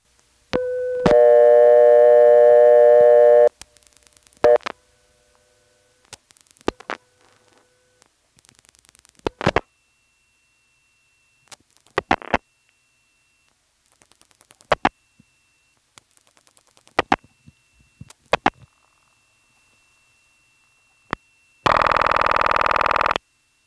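A 1977 NX1 step-by-step telephone exchange in Farmville, North Carolina: a steady dial tone, then bursts of mechanical stepping clicks spread across the dialing, ending in a loud ringing tone.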